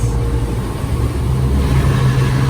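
Automatic car wash jets spraying water at a car's rims like a pressure washer, a loud, steady, unbroken rushing hiss heard from inside the car.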